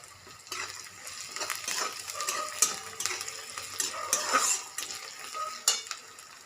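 Curry leaves crackle in hot oil in a pan, a continuous close sizzle with sharp pops and the scrape of a spoon stirring, and no speech.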